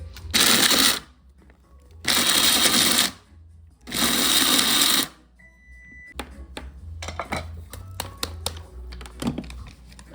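Nuts being crushed for an old-school Jamaican sweet potato pudding: three loud, sustained grinding bursts give way to a run of sharper cracking and clattering taps, close and unaccompanied by talk.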